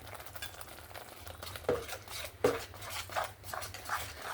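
Fish curry with mustard paste stirred in a pan, a spoon scraping and clinking in soft irregular strokes over a low steady sizzle, close and fairly quiet with no talking.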